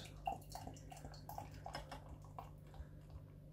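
Broughton Hopo IPA beer pours from a bottle and splashes into a glass, with soft gurgling and fizzy crackle, quiet and close.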